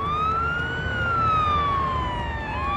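A police car siren in the video game Wobbly Life wails loudly and close, its rising and falling tone sweeping smoothly up and down with no voices over it.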